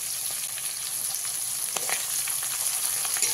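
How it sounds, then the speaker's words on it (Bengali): Sliced onions and green chillies fry in oil over a medium flame for a pui shak chorchori, giving a steady, close, continuous sizzle with faint crackles throughout and no talking. "পেঁয়াজটাকে আমি এরকম হালকা করে ভেজে নিয়েছি"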